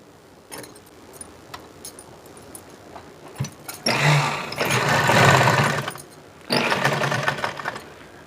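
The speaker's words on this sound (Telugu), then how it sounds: "ఇప్పుడు ఈ రెండుని ఇలా పట్టుకొని జాయింట్ వేసుకుందాం" A sewing machine joins prince-cut blouse pieces in two steady whirring runs of stitching, each a few seconds long, after quieter handling of the fabric, close by with no talking.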